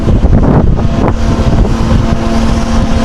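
Strong wind gusts buffeting the microphone on a boat out on the water, a loud, continuous rumbling roar that swells and eases with each gust, no voices.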